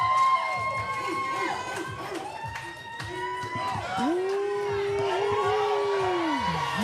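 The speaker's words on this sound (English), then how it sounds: "King Chado's getting the crowd up" A crowd cheers, whistles and shouts continuously during prejudging at the Florida Pro Natural Bodybuilding Championships. Voices rise in long whoops and high calls, and commentators talk over the noise.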